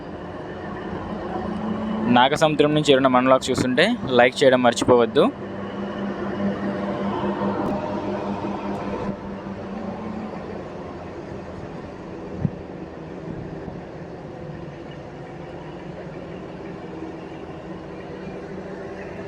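A DEMU train on the Hindupuram–Guntakal line pulls out of Nagasamudram station: a loud, harmonic, horn-like burst early on, then a steady rolling rumble beneath someone talking.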